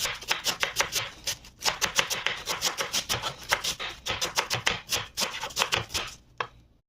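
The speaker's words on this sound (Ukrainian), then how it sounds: "Кришу капусточку." Rapid, steady knife chops on a board cutting tough winter cabbage, a dense rhythmic series of crisp strikes with a few brief pauses, close and clear.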